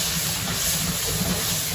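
Shrimp sliding into hot oil for shrimp cauliflower fried rice, a dense, steady, close sizzle that holds at an even level across the short stretch, with no voices.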